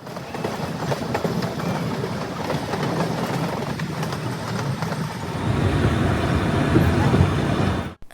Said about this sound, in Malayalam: ട്രെയിന് പോയിട്ട് പിന്നെ ഒരു തുരങ്കം പോലത്തേലേ കൂടിയിട്ട് പോയി